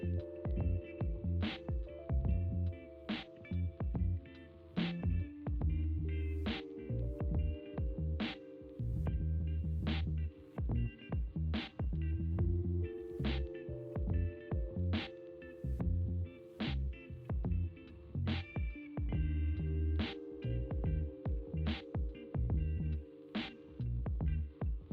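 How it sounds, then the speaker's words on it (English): Sewing machine running a straight stitch down the folded edge of dress shoulder straps, heard as a steady mechanical hum with regular ticking pulses and brief pauses and restarts, close and continuous. "pin down and sew a straight stitch down that edge"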